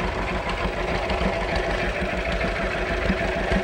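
A 1940 tractor engine idles steadily at close range, a continuous low rumble with a faint knocking pulse and vibration and no voices over it.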